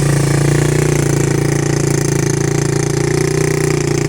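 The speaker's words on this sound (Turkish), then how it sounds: "Motoru çalıştırdık. Alfa motorun üstünde. Cold start yapıyor şu an." A motorcycle engine idles steadily just after a cold start, a loud, even low throb with a constant rhythm and no talk over it.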